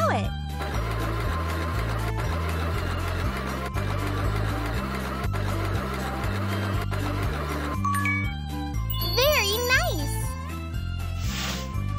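A sewing machine stitches in a kids' tailor video game, a steady mechanical whir running under bouncy looping game music with light chimes and a cartoonish voice near the end.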